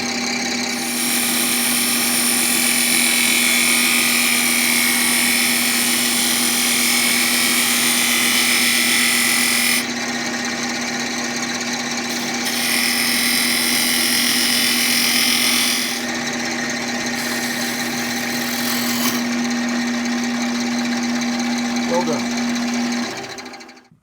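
A power tool cuts a tenon into wood with a half-inch hole bored through it, a steady high-pitched whine running loud and continuous for most of the stretch, with brief shifts in pitch and load as the cut progresses.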